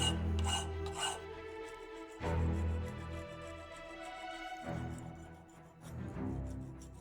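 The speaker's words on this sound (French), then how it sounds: "la lime, elle travaille que dans un sens" A hand file rasps across a workpiece in long repeated strokes, a close, dry scraping rhythm with several distinct passes and brief pauses between them.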